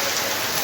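Heavy rain pours in a dense, steady wash of broadband noise, close and loud, with no voices.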